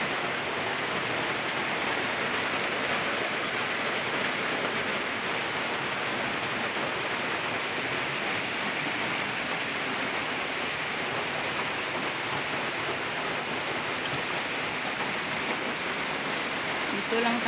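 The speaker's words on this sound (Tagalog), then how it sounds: "Dito lang tayo kasi maulan. Maulan ang panahon." Steady rain on a rainy Sunday, a dense, even hiss that holds at the same level throughout with no pauses or distinct drops standing out.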